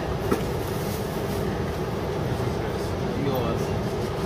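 Steady, close rumble of a passenger train riding toward Wollongong, a dense continuous roar and rattle that holds even from start to finish.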